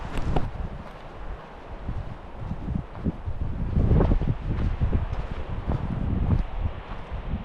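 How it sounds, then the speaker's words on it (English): Hot, dry wind blows steadily through a forest along a hiking trail near Pierre Grey's Lakes, a continuous broadband rush with gusts and some rustling, swelling louder in the middle and staying fairly close and dense throughout. "this is kind of a hot wind blowing through the forest"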